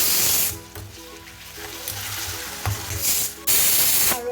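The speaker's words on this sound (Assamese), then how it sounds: "আৰু এইখিনি মই ধুনীয়াকৈ ভাজি ল'ম।" Ingredients for biryani fry in a pan with a bright, hissing sizzle that surges loudly at the start and end and eases off in between.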